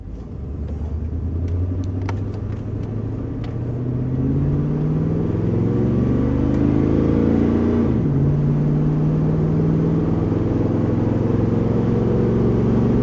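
A 1968 Chevrolet Nomad with a misfiring engine drives down a road, its low engine rumble and road noise steady and close, building slightly as it gets under way with a brief dip in pitch midway.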